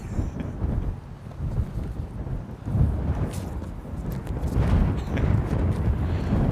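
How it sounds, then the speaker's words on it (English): Low rumbling wind at London Heathrow Airport buffets the microphone in continuous gusty waves, with a few faint clicks scattered through. "doesn't it make it a little bit more exciting when you've got wind noise?"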